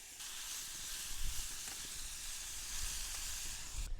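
Onions sizzle steadily in a hot frying pan at a campsite, a constant crackling hiss with occasional soft bumps and stirring knocks.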